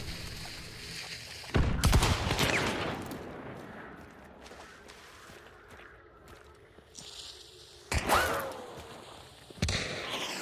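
Gunfire cracks out in a multiplayer shooter video game. A few loud, sharp pistol shots ring out, spread apart over a low rumble of background game noise, with no talking.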